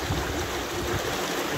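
Snowmelt water rushing at strong pressure down a mountainside channel in Kirovsk, a steady broadband roar of flowing water, close and continuous with no talk.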